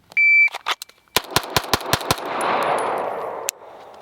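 A Staccato XC pistol fires a rapid string of six close, loud shots at a target, following a shot-timer beep and with ringing echoes after the last round.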